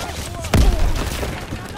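Grenade blast in Call of Duty WW2, a single loud booming burst followed by a scatter of gunfire and game noise, with someone talking over it.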